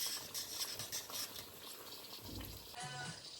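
Donuts cooking in a pan of hot oil, giving a steady, boiling-like sizzle and bubbling throughout, with a couple of soft low knocks near the end.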